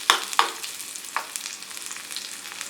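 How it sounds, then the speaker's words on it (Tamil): Onions frying in a pan for a Tamil paruppu keerai kulambu, a steady soft sizzle with a few sharper crackles and stir clicks near the start, alone with no talk. "வெங்காயம் பொன்னிறமாகிற வரைக்கும் நல்லா வறுத்துக்கலாம்."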